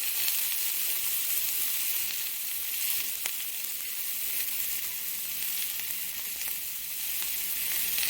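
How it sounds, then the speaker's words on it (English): Onions searing in a hot pan with oil for Salisbury steak gravy, giving a steady, close, broadband sizzle that hisses evenly throughout with no talk over it. "We're going to sear our onions with it."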